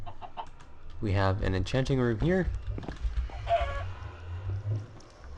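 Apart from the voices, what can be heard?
chicken clucking in a video game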